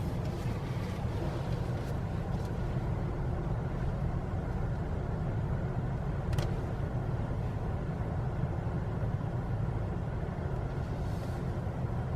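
A 2018 Jeep Compass Limited drives along with a steady low engine and road rumble heard from inside the cabin, unbroken for over ten seconds, with a couple of faint knocks.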